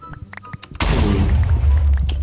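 A sudden loud explosion bursts in Minecraft with the Block Armor Mod, a sharp blast followed by a long rumbling decay, preceded by faint scattered clicks.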